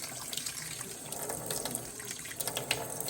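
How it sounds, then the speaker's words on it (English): Tap water runs steadily as pet water fountain parts are rinsed in a sink, a continuous close splashing with small clatters from the parts, and no talk. "So just rinse everything out."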